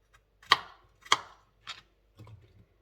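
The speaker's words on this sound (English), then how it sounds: "I am going to cut these up into about 3 bits each" Apples being chopped into pieces on a board with a knife: four separate cuts, two sharp and loud, then a softer one and a dull final thud, each spaced about half a second apart, no talking.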